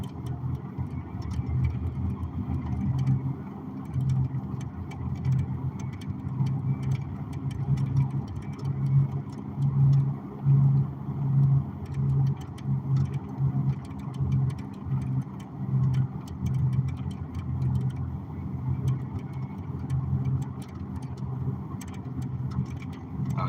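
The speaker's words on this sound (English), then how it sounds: "Don't mind that truck." A truck engine idles nearby with a steady low rumble and faint rhythmic pulsing, continuous throughout with no voices.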